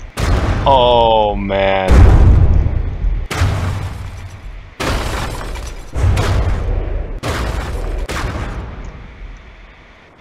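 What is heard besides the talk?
bombs exploding in the video game From the Depths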